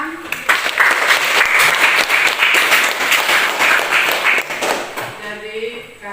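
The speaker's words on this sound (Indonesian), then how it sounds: "Ya, berikan tepuk tangan." Classroom applause during a lesson on the Prophet's character, a dense burst of many hands clapping together for about five seconds before fading out, with voices mixed into the clapping.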